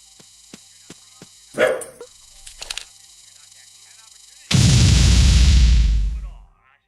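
A small dog gives a few sharp, short barks near the microphone, separated by gaps, followed by a loud burst of broadband noise.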